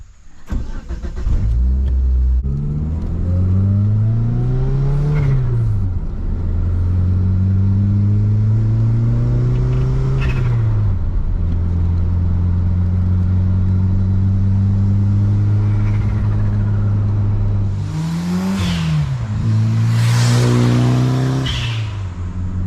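A Mitsubishi Eclipse GSX is driven from inside the cabin, its engine droning loudly and climbing in pitch through repeated gear pulls, with brief lifts between shifts and sharp revving bursts near the end.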